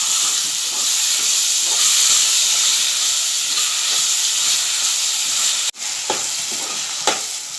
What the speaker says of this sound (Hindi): अब मैं इसमें कटे हुए टमाटर डालूँगी और इसे भी नरम होने तक फ्राई करूँगी।